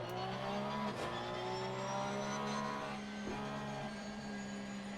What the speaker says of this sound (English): We ride with Dan French in his debut in the Dynamics Motorsports Porsche